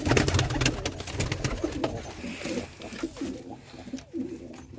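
Pigeons coo continuously in a breeding loft that holds chicks and eggs, a dense, close layer of soft throaty calls with a few brief quieter gaps.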